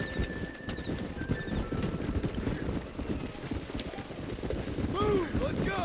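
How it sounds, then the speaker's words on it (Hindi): Wild horses in Red Dead Redemption gallop in a dense, continuous clatter of hooves, and sharp whinnies rise near the end. "तो ये सारे घोड़े डायरेक्शन बदल कर इधर उधर भाग रहे हैं"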